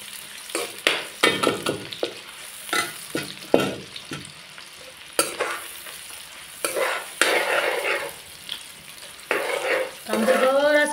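Onions fry in hot oil for a Malvani-style mutton curry, a bright crackling sizzle with irregular bursts of stirring and clanks of a spoon on the pot, close and fairly loud.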